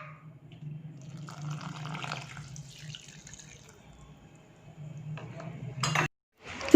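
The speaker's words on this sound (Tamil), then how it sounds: "தண்ணி ஊற்றி கரைச்சி எடுத்துக்காங்க." Water poured into ragi dosa batter with coriander and salt, then stirred in a kitchen; soft, low splashing and mixing sounds continue for several seconds, ending in a brief sharper clatter.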